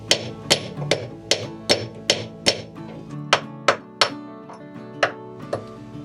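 A hammer strikes a leaky boat rudder in a slow, uneven series of about fifteen sharp metallic blows. Each ringing hit is close and clear and decays quickly, with no talking between the strikes.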